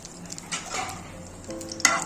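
Two bay leaves, a cinnamon stick, three cloves and a cracked cardamom pod fry in mustard oil in a frying pan, giving a close, low sizzle with a few soft stirring scrapes and crackles.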